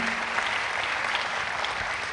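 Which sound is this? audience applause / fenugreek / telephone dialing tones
audience applause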